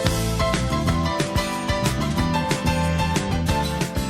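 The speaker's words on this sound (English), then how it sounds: "Okay, so there's the piano break." A rock song's piano break plays loud and steady, with rhythmic chords over bass and drums.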